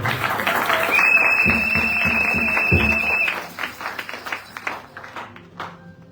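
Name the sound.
congregation applauding during a church service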